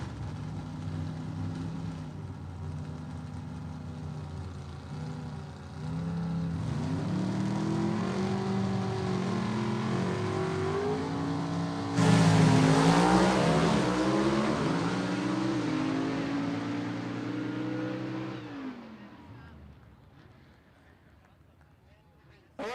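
Gasser drag race cars from the Southeast Gassers Association run at Gulfport Dragway, their engines rising in pitch through the gears and roaring loudly before fading into the distance, while an announcer talks over the run.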